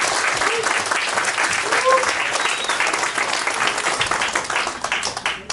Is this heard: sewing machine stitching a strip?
no